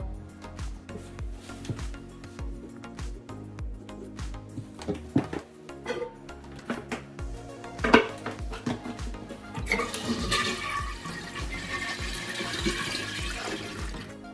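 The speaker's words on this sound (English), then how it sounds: "hold down the flush handle" A toilet flushes with its water supply shut off, a gurgling rush of water followed by a broad hissing swirl as the tank drains, set among clinks and handling noises.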